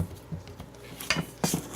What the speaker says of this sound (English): You keep cutting this butter in.